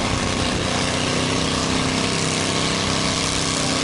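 Lawn tractor engine pulling at a fair's lawn tractor pull, a loud, steady, dense roar close by throughout with no clear voices.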